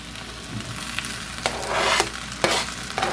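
Thin shrimp sizzle in a pan for fried rice, a steady crackle broken by a few quick scraping strokes of a utensil, close and fairly loud.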